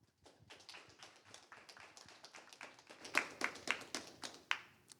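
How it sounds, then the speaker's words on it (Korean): A handful of audience members at a biotech startup tech event clap individually for an incoming speaker, faint scattered claps that start sparse, then grow into sharper, louder, more regular strikes near the end. "큰 박수 부탁드리겠습니다"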